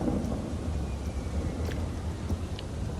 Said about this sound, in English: And we're in the middle of a thunderstorm,